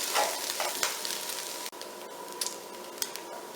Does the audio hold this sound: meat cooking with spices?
yes